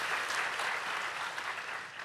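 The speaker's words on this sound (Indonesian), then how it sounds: "Kasih tepuk tangan bagi Tuhan Yesus, haleluya." A church congregation claps together for Jesus during a Sunday service, a dense, steady wash of many hands that holds evenly and fairly softly, with no voices over it.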